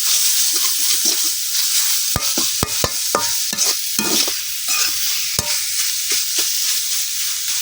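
Bhorta shak greens are stirred and fried in a pan, with steady sizzling cut by repeated sharp scrapes and knocks of the spoon against the pan, close up and without talk.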